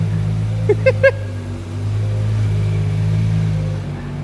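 A car's engine idles and rumbles steadily while vehicles are being moved around inside a car museum, with a few short bright chirps near the start and the low drone holding throughout.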